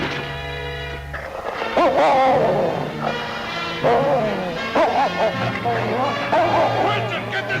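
A dog named King attacks a man in a snowy Yukon setting, with repeated barks and growls breaking in over loud shouting voices and a steady low drone throughout.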